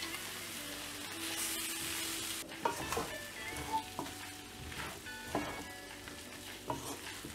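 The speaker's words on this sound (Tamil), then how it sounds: "வச்சுருந்த எறாவை ஆட் பண்ணிவிட்டு இந்த எண்ணெயில் நல்லா ஃப்ரை பண்ணணும்" Prawns coated in turmeric and chilli powder sizzle in hot oil for a prawn curry, with a steady frying hiss broken by a few stirring scrapes and clinks of the spoon against the pan.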